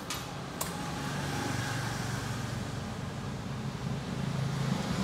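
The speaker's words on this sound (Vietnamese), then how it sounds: "Rồi sẽ nổ máy mọi người nghe nhé." A 2013 Honda Fury 1300cc imported motorcycle with ABS, its engine starting with a brief crank and then settling into a steady, low rumbling idle, close and continuous.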